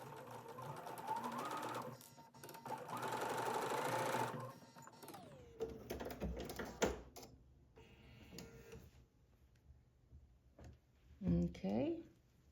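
A sewing machine stitches a scant quarter-inch seam on a quilt block in a fast, steady whir that runs in bursts and stops, close by, with someone talking between runs.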